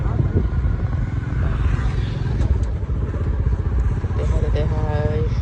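A motorcycle rumbles steadily and close as it rides off at midday, the engine drone continuous with slight clatter and a voice speaking over it.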